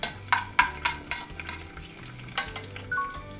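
Garlic and fresh chili gently fry in oil over very low heat for a pepperoncino pasta base, giving a soft sizzle with a few sharp utensil taps and scrapes in the pan.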